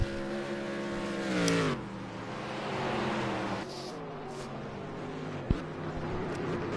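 A Sauber C9 race car howls around the Spa circuit in a racing game, its engine pitch climbing through revs and gear changes, with a sharp knock near the end.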